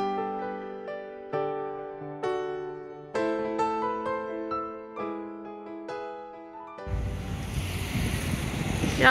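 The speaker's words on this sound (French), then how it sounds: "il y avait relativement beaucoup de vent" Gentle melodic notes play for several seconds, then a loud, steady roar of strong wind and surf sweeps in by the sea at Marseille, buffeting the microphone.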